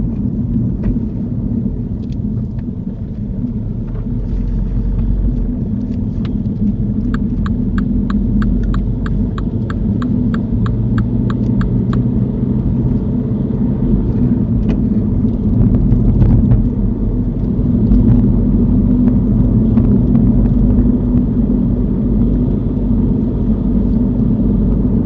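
A car drives onto and through a roundabout during a mock driving test, heard from inside as a steady low engine and road rumble with faint ticking from the indicator.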